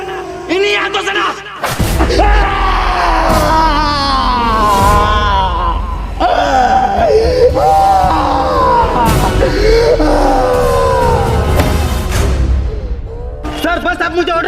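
A man screams and groans loudly and at length in anguish, close and raw, with strained wailing cries rising and falling, while sharp impacts and another voice break in around him.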